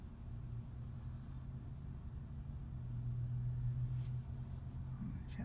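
Genesis G80 Sport on the road, a steady low engine and tire rumble from inside the cabin that swells slightly midway, with no talk.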